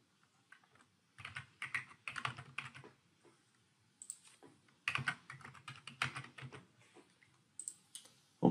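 A password is typed on a computer keyboard, quiet and close, as quick runs of key clicks separated by short pauses, with a final sharp keystroke.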